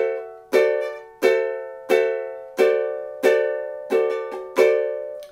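Ukulele strumming a D seventh chord, bright ringing strums spaced evenly in a down-down pattern with a quick triplet flourish near the end, clear and close with each chord decaying before the next.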